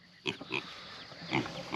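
Pigs on a homestead grunting and oinking nearby, a few short snorting grunts spaced irregularly, fairly faint over a quiet outdoor background.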